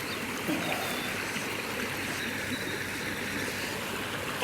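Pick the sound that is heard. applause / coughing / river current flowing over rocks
river current flowing over rocks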